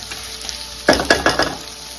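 Mixed vegetables for Odia-style santula stir-fry in a pan: a low sizzle, then a burst of four or five quick scraping, clinking stirs against the pan, close and with no voices.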